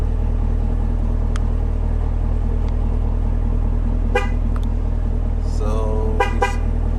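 A 2016-2024 Chevrolet Camaro sounds its horn in short honks, several quick toots near the end over a constant low engine rumble, loud and close.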